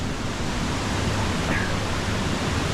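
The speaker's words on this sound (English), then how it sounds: "Why does it look like there's a big waterfall up ahead of us?" Steady broadband roar of a large waterfall ahead on a remote island, a continuous rushing wash of water with no breaks, fairly loud and close.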